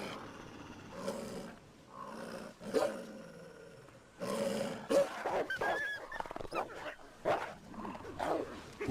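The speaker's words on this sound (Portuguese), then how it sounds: "Os rosnados e dentes à mostra reforçam as posições na matilha." A pack of wolves in the Alps growls and snarls while feeding, with rough bursts of growling coming in uneven waves, near and fairly loud, some overlapping, with short quieter gaps between.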